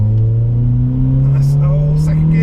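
A modified car's engine pulls hard through second and third gear, its drone rising steadily in pitch up close while a voice talks over it.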